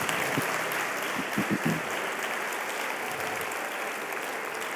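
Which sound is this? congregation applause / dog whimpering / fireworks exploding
congregation applause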